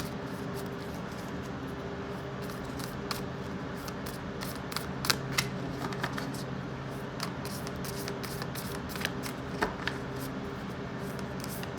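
Tarot cards being shuffled for an energy reading, a steady soft papery riffle under a low hum, with scattered brief crisp snaps and flicks; no voices.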